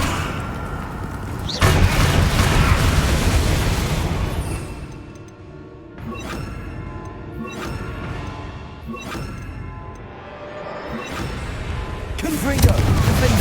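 Spell blasts and crashes from the Hogwarts Legacy video game burst out in a loud series of booming impacts and crackling explosions, spaced a second or two apart, with a voice shouting spell names between them.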